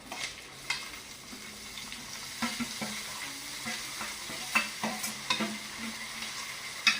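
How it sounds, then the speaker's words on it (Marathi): Washed vegetables added to a pan for homemade masala Maggi noodles give a soft sizzle, with scattered stirring scrapes and light clinks of a utensil against the pan, fairly quiet and close. "आता आपण ह्या भाज्या स्वच्छ धुवून ठेवलेल्या त्या घालायच्या।"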